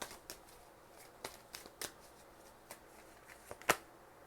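Tarot cards are shuffled and drawn from a deck at close range, a quiet series of brief papery flicks and snaps at irregular intervals, with one sharper slap near the end.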